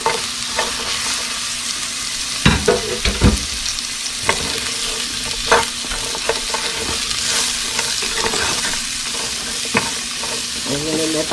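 Sliced onion frying in a hot pan, a loud steady sizzle broken by repeated scraping and stirring strokes close by.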